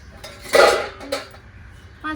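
A single metallic clank of a lid set on a pot of fish curry, followed by a lighter clink and another faint knock, in a quiet room.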